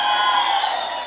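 Audience at a live music show cheering and whooping in a brief loud burst that holds steady and then cuts off abruptly.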